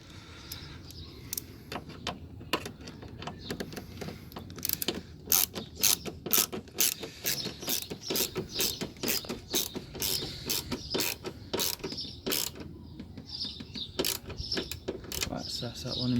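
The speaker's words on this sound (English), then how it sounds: "And now it's time to put the screws in place." Screws are driven into a Toyota Yaris Mk1 part during a respray job, giving a long run of close, sharp ratcheting clicks and mechanical ticks in irregular bursts, with brief handling noises between them.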